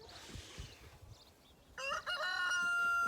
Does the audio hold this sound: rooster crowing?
yes